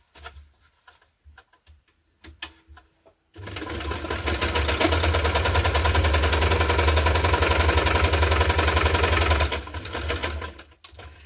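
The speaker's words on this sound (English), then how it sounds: "I will just use a straight stitch for the whole thing." A sewing machine runs a straight stitch through overlapping junk journal papers: a few soft clicks and taps first, then a loud, close, continuous rapid whirring for about six seconds before it stops.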